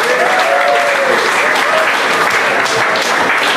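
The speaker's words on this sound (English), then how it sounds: "let's give a round of applause to the maestro, James Wackas Clarkson." An audience at a celebration event gives loud, continuous applause for a steelpan maestro, dense clapping filling the room with a voice faintly under it.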